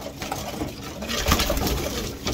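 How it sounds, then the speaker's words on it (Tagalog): Racing pigeons coo in a breeding loft, several low soft calls overlapping at close range against a steady background of shuffling and loft noise. "May kalapate sa loob."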